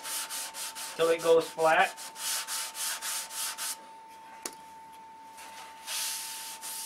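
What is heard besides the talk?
sanding a control line model airplane fuselage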